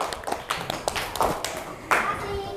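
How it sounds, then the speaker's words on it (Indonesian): Classroom clapping for a student coding group: a few separate, uneven hand claps, fairly close, with short bursts and small gaps, and faint voices in between. "Beri tepuk tangan."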